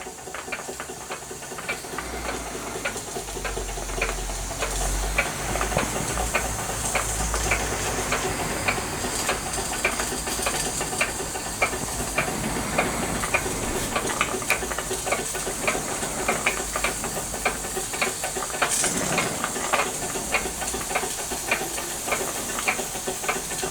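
A Wilesco D455 model steam engine runs slowly with a steady soft hiss of steam and a faint, rapid ticking patter of its moving parts, continuous and fairly close throughout with no talking.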